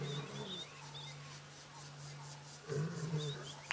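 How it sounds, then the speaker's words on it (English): A wild lion in the African bush gives a brief low roaring call late on, heard at a distance beneath a steady vehicle engine hum, with scattered bird calls in the background. "That's how lions communicate. They'll roar and call."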